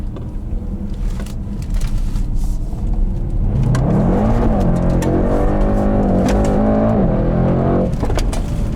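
A 612 hp Mercedes E63S 4Matic estate launches hard under launch control, its engine rising from a rumbling idle into a loud, sustained revving climb with gear shifts, close and continuous, with no talk.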